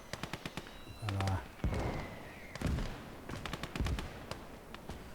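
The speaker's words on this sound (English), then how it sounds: "I'm pretty sure that's my mortars almost killing me." Friendly mortar shells landing close in Call to Arms: Gates of Hell, a handful of heavy booming blasts among crackling small-arms fire during a battle in a Finnish arctic setting.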